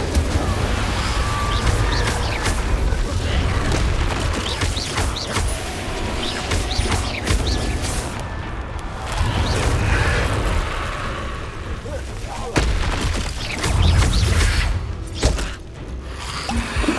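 Incendio fire spells are cast over and over in the game Hogwarts Legacy, giving dense, booming fiery bursts and crackling blasts over a steady, loud rumble of battle for the whole stretch, with a few sharper hits near the end.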